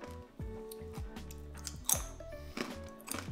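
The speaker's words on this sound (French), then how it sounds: "Un petit peu sucré, c'est bien croquant." Crispy, slightly sweet banana chips crunched while eating, close-up bites and chewing with sharp crackling bursts in an irregular rhythm, quiet overall and without talk.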